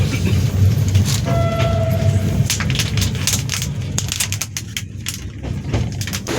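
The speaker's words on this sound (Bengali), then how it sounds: "আমাদের ট্রেন দার্জিলিং মেল এখন কিষানগঞ্জ পৌঁছাল" Heard from inside a second-class coach, the Darjeeling Mail arrives at Kishanganj with a heavy, continuous rolling rumble and creaking, plus a brief distant horn early on.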